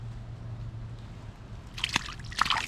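A fish released back into the water on a fall fishing trip with live worms: after a quiet stretch, a couple of short splashes and sloshing drips close by, with no talk over them.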